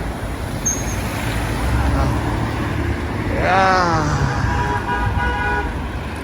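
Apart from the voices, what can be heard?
cars turning in street traffic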